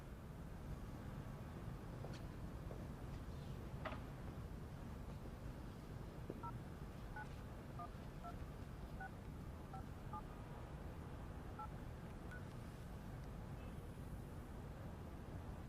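A telephone number is dialed as a quiet string of short DTMF tone beeps, about a dozen evenly paced presses over faint background hiss.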